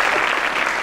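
Studio audience clapping on an Eid special comedy talk show, a brief dense burst of applause that fills the moment loudly and evenly.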